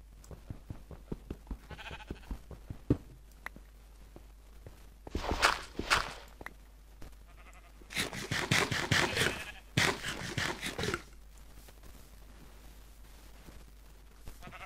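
Footsteps crunch along in Minecraft while sheep bleat in a few loud bursts, a brown sheep among them, with rapid stepping sounds between the calls and no talking.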